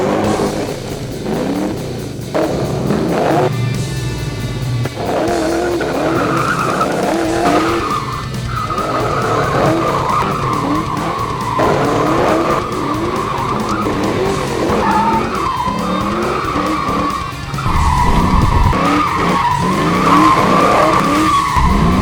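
A Galpin car fitted with Ford Racing parts skids hard, its tires squealing continuously over a roaring, revving engine for more than twenty seconds, loud and close throughout.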